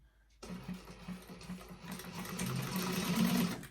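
A sewing machine runs steadily, stitching a 1/2 inch seam on a vintage expandable tote bag. It starts after a brief quiet moment and its hum builds slightly louder toward the end, close and continuous.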